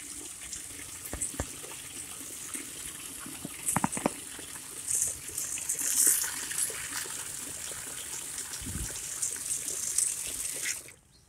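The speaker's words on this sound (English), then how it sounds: "We have hot water going to the outside of the house for washing the trucks." Hot water runs steadily from an outdoor tap used for washing trucks, a continuous hissing gush with a few clunks and splashes, stopping abruptly at the end.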